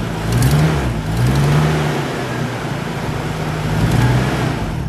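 Car engine idling right after its first startup in a long while, a steady rough low rumble with slight rising and falling swells, close and continuous with no talking.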